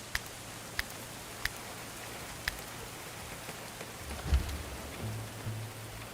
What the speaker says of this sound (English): Except for the fact that it's freaking raining.